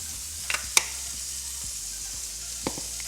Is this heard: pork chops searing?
yes